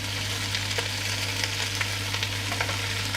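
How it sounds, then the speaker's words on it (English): Chicken frying in a pan for adobo, giving a steady, close sizzle with faint crackles and stirring sounds and a low hum beneath, with no talking. "You might not be able to hear her over the sound of the sizzling chicken."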